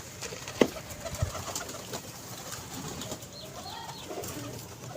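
A domestic pigeon at a pigeon club gives a low, rolling coo nearby, with a couple of sharp clicks and faint background bird calls.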